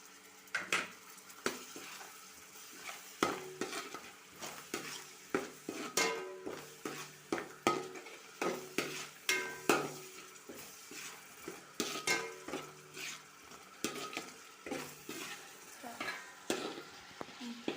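Ground tomato with green chillies fries and sizzles in a pan while a spoon stirs it, giving repeated close scrapes and clinks over a constant, quiet hiss; no one speaks.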